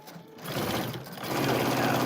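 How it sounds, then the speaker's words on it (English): A sewing machine runs steadily, stitching a quarter-inch seam around a quilted placemat made from fabric scraps, its motor hum continuous and close, briefly slowing near the start before settling into an even drone. "I'm sewing a 1/4 inch all the way around."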